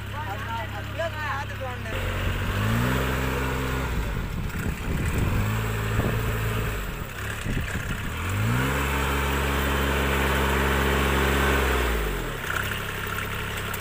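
Engine of a rice transplanter working in a paddy field drones steadily up close, its pitch rising and falling as it revs and settles, with a person talking over it at the start.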